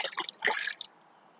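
Liquid pours out of a Contigo Autoseal travel mug in a short, close splashing trickle that tapers off into quiet within about a second.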